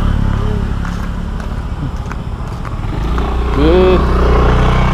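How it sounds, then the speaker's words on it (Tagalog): Motorcycles climb uphill past the listener on a rural road, their engines droning steadily and rising louder near the end as one pulls closer, while a person talks over the engine noise. "Ay, yan may motor paakyat."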